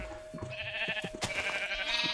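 Sheep bleat in the video game Minecraft as two wavering bleats that overlap, up close, with clicking game sounds underneath and no talking.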